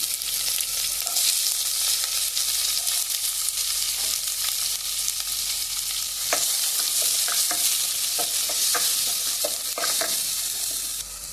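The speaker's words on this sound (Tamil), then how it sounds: "லைட்டாக பொரியட்டும் கடுகு அது கூட கொஞ்சமாக ஒரு பிரியாணி இலை கொஞ்சம் பட்டை கூட சேர்த்துக்கிறேன் இப்போ இது கூட ரெண்டு வெங்காயம் கட் பண்ணி சேர்த்துக்கோங்க" Mustard seeds, bay leaf, cinnamon and onions fry in oil with a steady, loud sizzle, broken by scattered sharp pops and crackles that grow busier toward the end.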